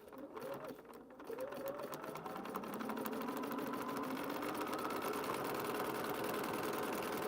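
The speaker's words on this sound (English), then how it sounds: "I'm just going to put my foot down and sew this on" A sewing machine sewing a paper-pieced quilt block, starting up after a moment of handling and then running in a steady, fairly quiet whir that speeds up and holds.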